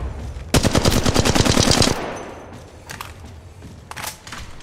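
Automatic gunfire in the Apex Legends Mobile video game, a loud rapid burst of shots lasting over a second, followed by a few fainter scattered shots.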